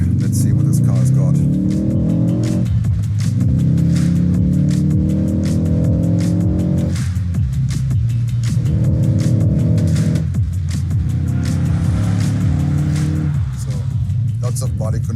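A 2022 Ford Focus ST Track Pack revs hard while driving, its engine note climbing steadily through each gear before dropping at the shifts, loud and close inside the cabin with road hum underneath.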